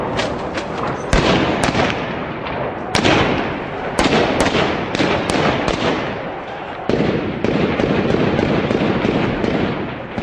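Heavy gunfire during fighting in a Syrian town: a rapid series of sharp, loud cracks and bursts, some clustered, repeating irregularly over a sustained roar with no talk.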